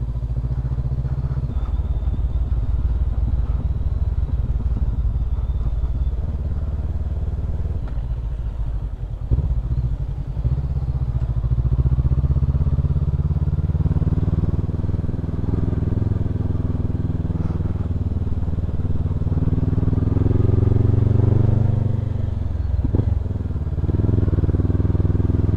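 A motorcycle engine runs continuously nearby in mountain country at Madaymen, Kibungan, Benguet, rumbling low and steady with occasional revving swells and some clatter.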